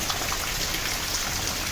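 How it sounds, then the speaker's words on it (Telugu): Heavy rain pours steadily onto a garden in Vizag (Visakhapatnam), a dense, continuous hiss of drops close by, with no voices. "వైజాగ్లో చాలా భారీ వర్షం కురుస్తుంది మీరు గమనిస్తున్నారు ఇక్కడ మా గార్డెన్లో"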